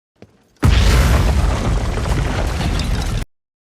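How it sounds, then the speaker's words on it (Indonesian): A sudden loud blast bursts out and roars on for a few seconds before cutting off abruptly, with a faint rumble just beforehand. "mengalami ledakan konyol yang nyaris membuat Tovar celaka."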